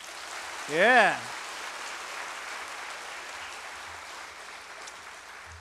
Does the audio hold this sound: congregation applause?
yes